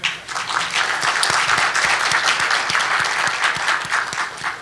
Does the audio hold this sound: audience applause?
yes